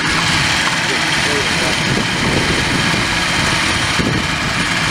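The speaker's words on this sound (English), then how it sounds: "That'll kick on the compressor." A Dodge Caravan engine runs with the air-conditioning compressor engaged, a loud, steady close-up mechanical drone and whir that holds without a break throughout.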